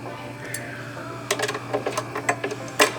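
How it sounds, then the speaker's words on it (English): An Allen wrench works a bolt on a Run Rocket during a strap replacement, giving a few close metallic clicks and light scraping taps in quick irregular bursts over a faint steady hum. "Put your Allen wrench back on that."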